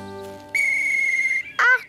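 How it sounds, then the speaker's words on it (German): A toy whistle in a children's cartoon gives a long, steady shrill tone after some quieter tonal sounds, then breaks off into a short warbling trill at the end. "Eine Trillerpfeife."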